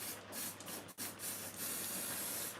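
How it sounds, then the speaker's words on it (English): Can of spray adhesive sprayed over the top of a model railway layout, close steady hissing bursts with a brief pause near the start, no talking. "spray adhesive across the top there."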